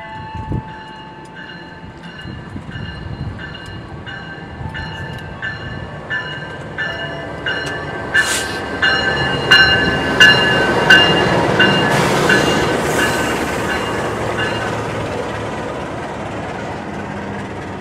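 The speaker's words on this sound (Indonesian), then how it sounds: "jalur 3 sebentar lagi masuk kereta Taksaka yang akan saya naiki" The Taksaka train rolls into track 3 at Kutoarjo station, Indonesia, with a rising rumble, rhythmic clicks and squealing metallic brake tones growing louder over several seconds, with no talking.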